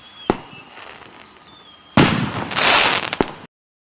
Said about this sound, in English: hit that Brazilian fireworks